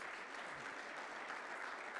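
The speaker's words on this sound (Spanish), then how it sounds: "¿Por qué no damos un aplauso," A church congregation at a Sunday service applauds first-time visitors, a steady, dense wash of many hands clapping that stays even and moderately distant for the whole stretch.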